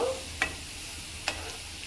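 Chicken snacks fry gently in hot oil on low heat, a quiet continuous hiss marked by two brief utensil taps and a faint squeak at the start.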